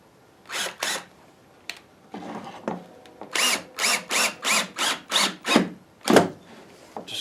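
A power drill drives 1 5/8 inch screws into a wooden tenoner jig. A few short starts are followed by a rapid series of about eight even, loud whirring pulses, close up with no talking.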